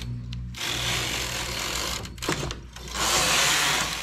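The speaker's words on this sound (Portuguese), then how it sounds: "Essa primeira carreira a máquina vai sofrer um pouco" Domestic knitting machine working its first row for an ear-flap hat, its carriage running with a steady mechanical whirr and clatter, pausing briefly midway before a louder pass.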